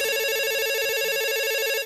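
A telephone ringing with a single sustained electronic ring, loud and close, cutting off sharply at the end with no voices.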